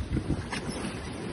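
Gusting wind and waves aboard an H-boat sailing downwind in Aarhus, a rough, blustery rush with low buffeting and a brief splash, close and unbroken.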